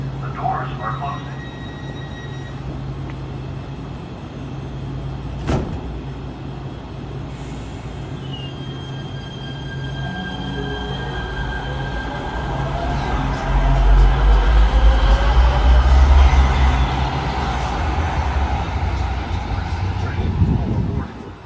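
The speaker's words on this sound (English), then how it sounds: "Enjoy this mini compilation of some trains arriving and departing." A Los Angeles Metro light-rail train pulls into Expo/Bundy station, its rumble and squealing wheels building into a loud, close approach under automated announcements.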